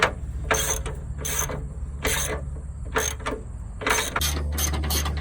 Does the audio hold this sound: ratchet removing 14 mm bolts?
yes